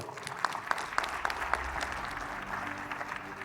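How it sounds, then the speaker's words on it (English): Applause from an audience for a startup pitch presenter at a space health challenge event, moderate and fairly even, with a few sharper individual claps standing out near the start. "Let's give Eric a round of applause"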